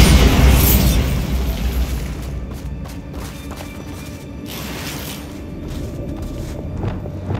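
Bombarda spell explosion in the Hogwarts Legacy video game, striking near a bridge: a loud, close blast at the start that settles into a long rumble with scattered crackles and debris thuds.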